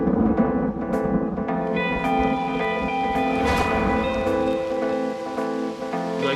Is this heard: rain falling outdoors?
yes